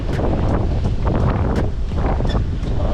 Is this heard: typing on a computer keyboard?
no